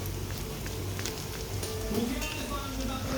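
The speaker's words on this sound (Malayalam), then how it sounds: "ഇനി നമുക്ക് ഒന്ന് ഇളക്കി കൊടുക്കാം" Chicken curry with garam masala and chilli powder sizzles steadily in a pan while being stirred, a constant frying hiss with soft scraping close by.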